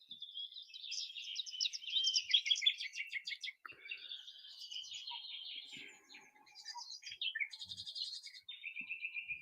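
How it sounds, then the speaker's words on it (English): Birdsong plays steadily as a relaxing recording, with layered chirps, tweets and warbling trills overlapping continuously at moderate volume, with no talking. "Relaxing bird sounds."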